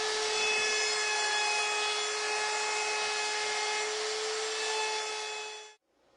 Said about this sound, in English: And then I round the top and bottom edges of the tabletop with a 1/4 inch round over router